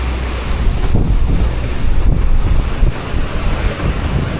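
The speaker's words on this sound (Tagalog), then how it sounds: "dasi-dasi ang dagat." Rough Pacific Ocean waves surge and crash around a boat on a long working voyage, a loud, continuous roar of surf mixed with heavy wind buffeting the microphone, with no talking.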